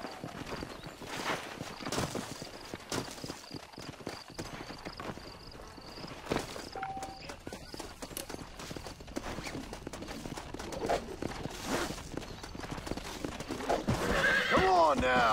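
In the video game Red Dead Redemption, a horse gives a loud whinny over a steady clip-clop of hooves, with a voice speaking at times and a further snort and neigh near the end.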